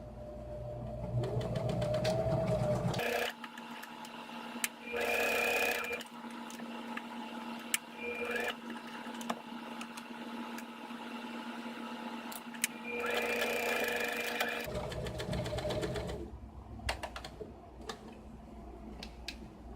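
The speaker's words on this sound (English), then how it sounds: "now I'll go ahead and sew around these ones as well" A sewing machine stitches fabric into homemade wet/dry Swiffer pads, whirring in several short runs separated by quiet pauses, with light clicks and handling noises close by.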